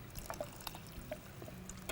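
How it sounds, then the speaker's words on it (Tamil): Water is poured into a mixer jar in a home kitchen, a light splashing trickle with small clinks, close and fairly quiet. "அந்த தண்ணியை இதில் ஊற்றிடுங்க."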